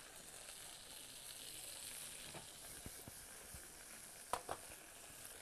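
Morel mushrooms sizzle in a hot pan after caramelization. The frying hiss is faint and even, broken by a few small pops and crackles. No one speaks.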